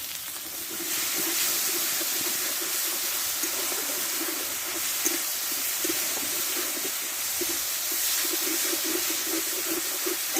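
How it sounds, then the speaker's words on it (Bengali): Tomato and spice masala with salt and turmeric frying in oil in a pan, a steady close sizzle and hiss with soft bubbling pops, no voices. "মশলাটা ভালোভাবে কষে নিচ্ছি টমেটোটা গলে দিচ্ছে মশলাটা দেখো তেলটা ছেড়ে দিচ্ছে"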